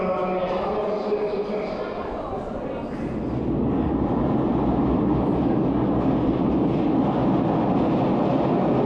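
Merseyrail train arriving at a Liverpool underground platform, a steady rumbling roar of wheels and motors that builds and fills the station, with a platform announcement voice over it at the start.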